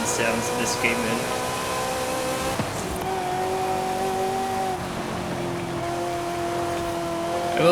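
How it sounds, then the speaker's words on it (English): The engine of a 1984 Ferrari 288 GTO in Forza Horizon 5 runs loud and steady, rising and falling in pitch through shifts, with a brief squeal and someone talking over it. "Nice engine sounds in this game"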